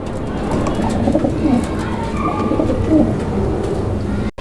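A light-coloured pair of Damascene pigeons in a cage coo in low, rolling calls close by, steady and without talk.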